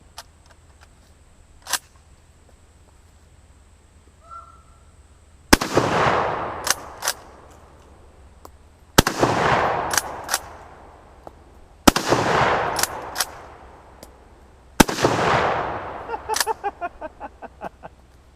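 A Schmidt-Rubin 96/11 straight-pull rifle fires four loud, close shots at a few seconds' spacing, each with a long rolling echo, and clicks and clacks of the bolt follow each shot.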